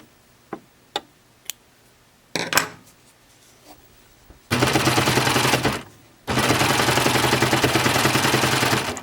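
A coverstitch machine sewing knit fabric: a few sharp clicks, then two long bursts of rapid, loud, even mechanical stitching separated by a short pause.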